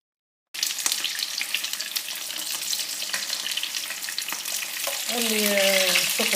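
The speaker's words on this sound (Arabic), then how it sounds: "توا سخن الزيت باش نبدا نقلي" Peppers fry in hot oil in a home kitchen for Tunisian tastira, giving a steady close sizzle that starts suddenly after a moment of silence and swells slightly toward the end, with a brief whistling tone over it.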